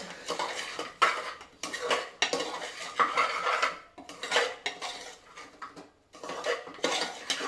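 Metal utensil scraping and clinking against a pan while masala for pork with mustard is mixed, steady bursts of stirring close by with brief pauses, no voices.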